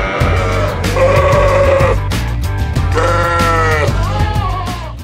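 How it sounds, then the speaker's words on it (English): Sheep bleating loudly and close, several long wavering bleats in a row over a steady low background hum, with no talking. "Sheep are sheared for their wool."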